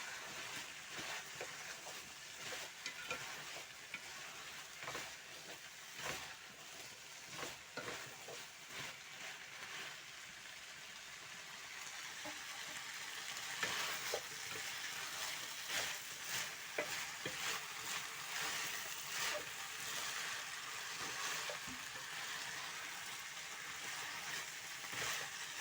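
A spoon stirs potatoes into beef and french beans in a cooking pot, producing a steady, soft scraping and wet clatter with faint sizzling, repeated irregular strokes, quiet and close with no talk.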